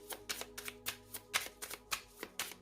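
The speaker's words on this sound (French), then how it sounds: "on va remettre une carte dessus pour voir." Tarot cards slap and shuffle onto a spread, a series of about a dozen quick papery flicks in an uneven rhythm, close and fairly quiet.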